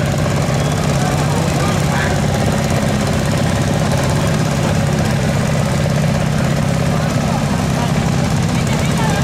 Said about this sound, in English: And a Minneapolis Moline. This machine is still in its working clothes, a Model R from 1951.